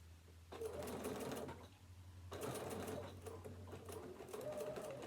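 Sewing machine stitching over two fabric layers of a tablet holder, a quiet rapid mechanical whir in two bursts with a brief pause between, alone at low level.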